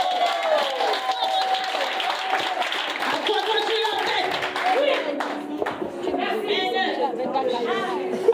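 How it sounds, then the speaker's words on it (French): A church congregation claps and cheers for Jesus in a steady, continuous wash of applause and crowd chatter, with voices and music running underneath. "Acclame Jésus de tout ton cœur"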